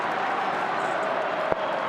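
Large football crowd at a North Melbourne vs Collingwood AFL match in 2012, a steady distant roar of cheering and applause sustained throughout, with one brief sharp click near the end.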